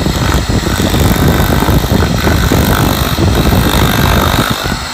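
A 2.2 kilowatt, 3 horsepower electric motor on a 220 volt supply spins with a loud, steady, dense whirring drone that holds constant throughout, recorded close up with heavy rushing noise and no speech.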